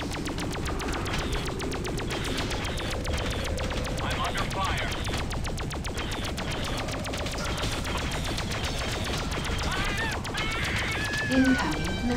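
Rapid weapons fire in the Freelancer space combat game rattles steadily for several seconds over a constant electronic hum, with brief voice chatter mixed in.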